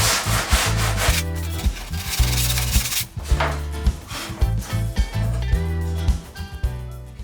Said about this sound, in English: I'm just going to use a bit of sandpaper just to get in the gap